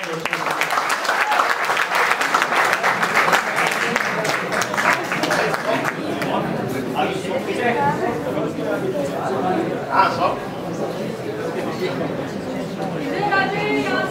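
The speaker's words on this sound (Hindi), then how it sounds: "आपकी जोरदार तालियां" Audience at a kavi sammelan poetry gathering in a university hall breaks into loud applause that thins after about six seconds into crowd chatter and scattered claps, with voices murmuring throughout.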